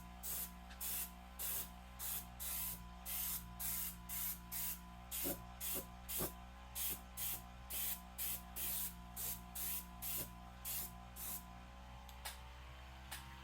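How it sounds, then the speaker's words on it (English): Rapid, rhythmic bursts of an aerosol spray can lay a light coat of bronze paint on a racecar, about two dozen short hisses close to the mic over a steady low hum. "I am just gonna get everything with a light coat of bronze"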